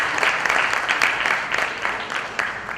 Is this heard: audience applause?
yes